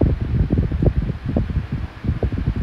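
A vintage 1975-76 Patton High Velocity 12-inch fan with a shaded pole motor runs on a lower speed, giving a steady close whoosh of moving air with gusty low buffeting against the microphone.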